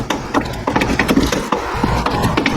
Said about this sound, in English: Now kind of gently try to wiggle your carburetor out.